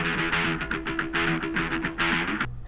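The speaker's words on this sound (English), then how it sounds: "you're gonna need palm muted guitars" Palm-muted electric guitars chug in tight rhythmic bursts of heavy metalcore-style riffing, loud and dense, with the final chord cut off abruptly.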